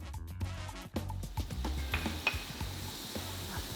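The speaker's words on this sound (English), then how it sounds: "The sound of butter sizzling" A whole chunky piece of butter sizzles and crackles steadily in a pan for a buttery chilli crisp pasta, with a few light clinks of a utensil stirring, close and continuous with no talking.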